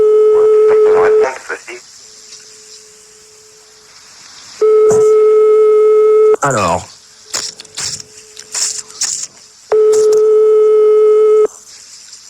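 A phone call goes out with dialing tones, then ringback tones sound in repeated long beeps separated by pauses, with a voice talking between the rings and a brief burst of noise in the middle.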